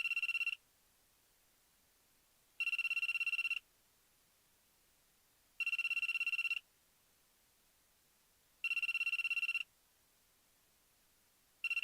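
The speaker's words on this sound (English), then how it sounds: "I get a call from my phone." Electronic phone ring in a visual novel game, a buzzy warbling trill repeating in five even bursts of about a second each with two-second gaps, clear and isolated against silence.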